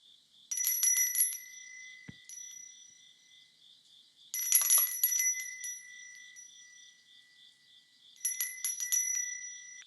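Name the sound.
prosperity bell being rung three times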